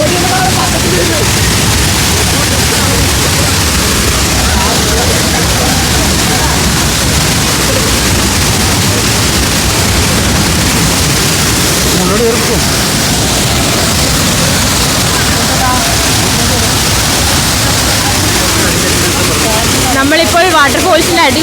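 Kappimala Waterfalls pours heavily, a loud, dense, continuous broadband roar of rushing water close to the microphone.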